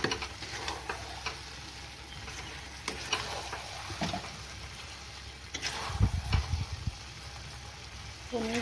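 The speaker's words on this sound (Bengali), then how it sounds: "এবার আমি একটু ভাজবো ভালো করে।" Paneer chilli with capsicum and onion frying in a pan, a continuous sizzle broken by repeated scraping and stirring clatter, near and fairly loud with no talk.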